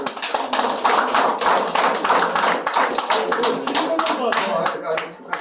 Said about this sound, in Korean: 여러분 뜨거운 박수